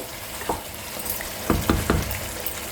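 Mutton curry frying in a covered pot, lid lifted now and then to stir: a steady low sizzle with a few soft scraping stirs, the clearest three bunched near the end, close by with no talk.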